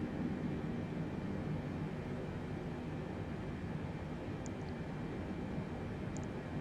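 A Boeing 747 of Atlas Air descends in Microsoft Flight Simulator 2020, heard as a steady, moderately quiet broadband roar of engines and airflow that never lets up, with no talking.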